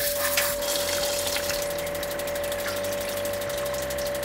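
A camper van water heater in a Kombi tries to ignite, giving a steady mechanical whirring and rapid ratcheting clicks over a constant hum, loud and close, with no voices.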